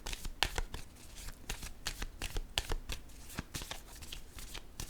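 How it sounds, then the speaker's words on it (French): Playing cards are handled on a table, with a rapid run of soft, papery flicks and snaps that continues steadily at close range and quietly, with no talking. "Je vais déposer une carte."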